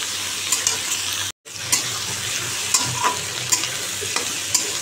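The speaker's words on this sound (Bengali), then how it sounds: "মটরশুঁটি, কাঁচা লঙ্কা দিয়ে এটা একটু ভাজবো, কালো জিরে দিয়ে দেবো, তেলটা গরম হোক" Peas and green chillies frying with black cumin in hot oil. A steady sizzle is broken by the scrape of stirring and one brief dropout, and it sounds close, with no voices.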